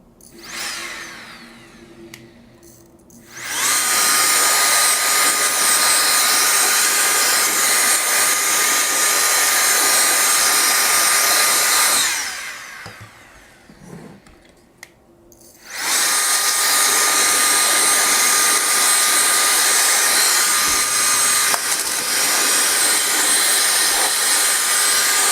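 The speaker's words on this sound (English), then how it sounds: "I'm going to turn this on so you can see for yourself" A Nitecore BlowerBaby electric dust blower whirs loudly at close range with a high, airy roar, running steadily for about nine seconds, pausing briefly, then starting up again and holding at full blast.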